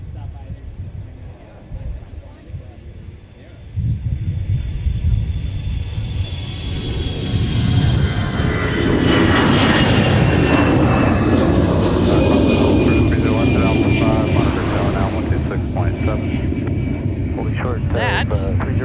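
An airliner takes off from runway 30 left at MSP, its engine roar swelling abruptly and building to a loud, sustained rumble with a rising whine, while people talk in the background.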